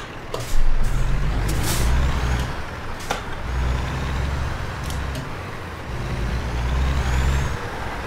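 A heavy truck in American Truck Simulator maneuvers a trailer, its low engine rumble steady throughout with sharp hissing air brake releases punctuating it at intervals, close and fairly loud.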